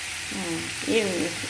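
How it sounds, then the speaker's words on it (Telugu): Oil crackles and sizzles steadily as spices fry, with faint murmuring and clinking over the hiss. "ఇది పోపు వేగేటప్పుడు"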